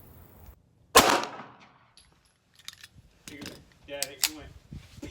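A single sharp pistol shot fired at a target on an outdoor range, one loud crack near the start followed by quieter mechanical clicks and handling noises.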